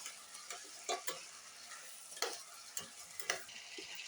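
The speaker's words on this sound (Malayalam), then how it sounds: "നല്ല എണ്ണയിൽ വഴറ്റുക." Mango and ginger sauté in hot oil for pickle, giving a soft, steady sizzle broken by scattered clicks and scrapes of a spoon stirring the pan. Quiet and close, with no voices.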